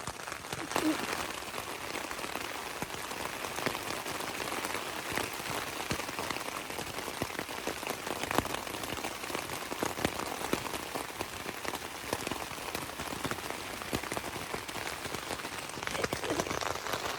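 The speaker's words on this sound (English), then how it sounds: "Still raining." Steady rain falls on the Appalachian Trail, a dense continuous patter of drops hitting surfaces nearby, even and unbroken throughout.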